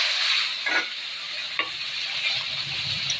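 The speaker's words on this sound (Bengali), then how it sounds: "তো জিরেগুলো হয়ে গেছে, আলুগুলো দিয়ে দেবো।" Potatoes frying in oil with cumin in a wok give a steady bright sizzle, with two short scraping stirs standing out over the constant hiss, no talking.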